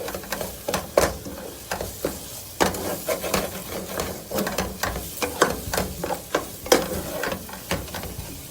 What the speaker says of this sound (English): Maybe I'll saute the cashew nuts a bit more